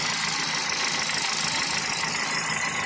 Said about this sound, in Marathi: बघा इंजिनचा आवाज बघा तुम्ही